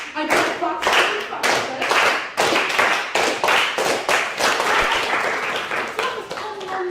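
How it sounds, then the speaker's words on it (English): An audience claps together at a stand-up comedy show, starting in rough unison and then speeding up, with sharp loud rhythmic claps that sometimes line up into single strokes, near and continuous throughout. "we're also going to do a clap"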